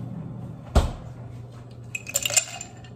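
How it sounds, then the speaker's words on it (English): Ice cubes are dropped into a glass cup at home before coffee is poured: one sharp clunk, then a quick cluster of bright clinks and rattles, close and clear with no talk. "I'm just gonna put a couple of ice cubes in it to start."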